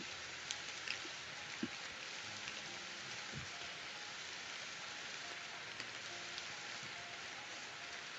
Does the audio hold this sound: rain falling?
yes